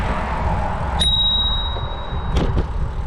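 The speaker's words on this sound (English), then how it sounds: "so I'm going to have to ring the bell" A bicycle bell rings once, a clear bright ding with a long sustained ring, over steady outdoor street rumble while riding, followed by a couple of faint clicks.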